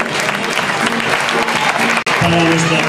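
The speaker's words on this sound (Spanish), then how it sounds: "un aplauso" Steady applause from an audience at a school end-of-year festival fashion show for a child model, loud and sustained for about three seconds with a brief break near the end.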